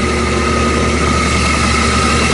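A centrifuge spins waste oil to filter it into fuel, giving a loud, steady, low mechanical hum with a constant whir and no change in pace.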